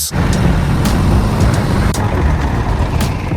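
A TG 660 tractor truck hauling a heavy crusher on a low-loader semi-trailer downhill with constant braking: a loud, close, steady roar of engine and road noise with a few faint sharp clicks, no talk.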